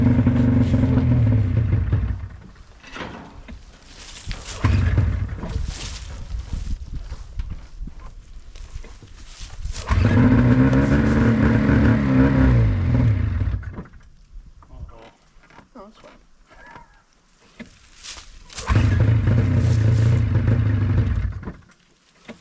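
An old two-stroke snowmobile engine, stored ten years in a container, sputters to life in short bursts of rough running separated by quiet gaps, each run revving briefly before dying down.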